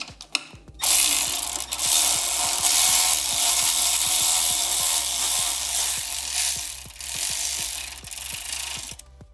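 A ratchet tightens a 6 mm bolt on the handlebar of a 2018–2023 Indian Roadmaster or Chieftain motorcycle, giving a steady run of close, evenly spaced clicks for several seconds with no talking.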